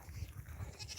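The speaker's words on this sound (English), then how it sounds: "I don't know if you see the goat up there in the distance, the black one." A goat on a homestead gives short, faint bleats, heard from a distance amid low outdoor rumble, with no talking.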